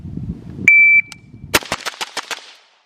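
A sharp electronic beep is followed by a rapid run of about six or seven sharp rifle shots fired in quick succession at a beginner rifle assessment, loud and close, before silence.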